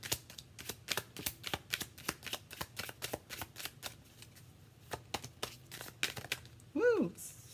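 Tarot cards are shuffled by hand in quick, rhythmic riffling bursts, close and crisp, with a short vocal sound just before the end.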